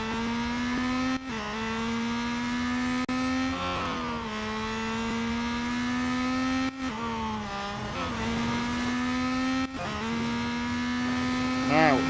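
Peugeot 9X8 race car in Real Racing 3 accelerates hard, a loud whining engine climbing in pitch through repeated upshifts, each marked by a sharp cut and drop before rising again.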